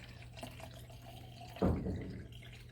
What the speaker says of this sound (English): just regular tap water and pour it into our tank to pre-wet the film